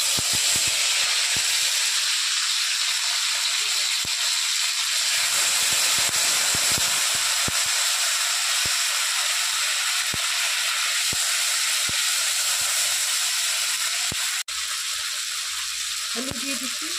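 Whole cumin seeds and dried chilli sizzle in hot oil as a tempering for gima greens, a continuous close frying hiss with scattered faint ticks and a brief utensil knock near the end.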